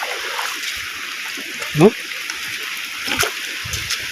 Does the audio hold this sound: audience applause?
no